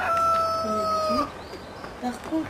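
Chickens in a coop on a farm in Farming Simulator, with a drawn-out rooster-like call followed by a few short clucks, close and fairly loud while someone talks over them.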